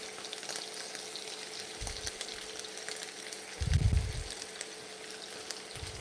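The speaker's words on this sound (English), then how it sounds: "I will quickly add to my pan. As you can see, it's really nice and beautiful. I will cook this shrimp very quickly." Shrimp fry in a pan under a quiet, continuous sizzle, with a few soft thumps and one louder burst of stirring about midway.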